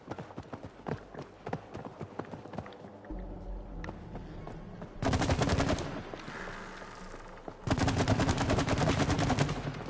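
Shooting in the co-op video game It Takes Two: rapid bursts of gunfire-like pops, a scattered run of shots then two dense loud volleys, with faint talk in the background.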